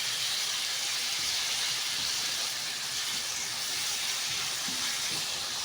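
Peppers go into a hot pan for shakshuka and sizzle with a continuous, even hiss at moderate loudness, with no talking.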